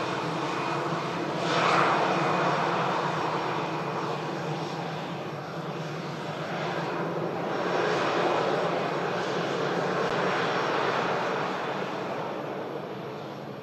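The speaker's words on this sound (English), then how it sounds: "There's the arriving EasyJet from Amsterdam." An EasyJet airliner arriving from Amsterdam roars past at Manchester Airport, its engine noise a broad, sustained rumble and whine that swells and fades steadily over several seconds.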